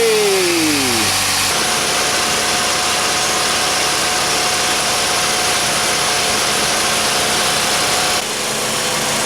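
A 2000 Chevy Cavalier 2.4 liter engine cranks briefly, fires and settles into a steady, loud idle with a faint whine, running with the hood open after a serpentine belt tensioner replacement.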